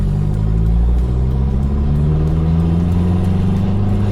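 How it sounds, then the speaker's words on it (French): A Toyota Land Cruiser KZJ90 accelerates at full throttle, its engine a steady, loud, close rumble with the pitch rising slowly throughout, and no talking. "Et après on accélère à fond."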